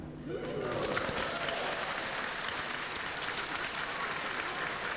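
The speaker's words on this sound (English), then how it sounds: "The spontaneous cheer and applause underscored the excitement of Ghana's Latter-day Saints." A large crowd of Latter-day Saints in Ghana bursts into spontaneous cheering and sustained applause, a dense, even wash of clapping that swells in quickly and holds steady.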